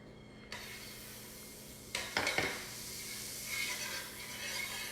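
Butter greases a hot pan for oatmeal banana pancakes, giving a steady, fairly faint hiss that starts suddenly. A few louder clattery bursts come partway through, then the sizzle continues alone.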